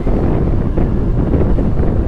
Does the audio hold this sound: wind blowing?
yes